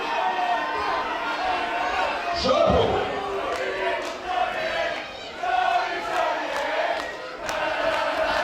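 A wrestling crowd at a heavyweight championship match in Whitehaven roars and chants continuously, a dense wash of cheering voices with a loud surge of shouts midway.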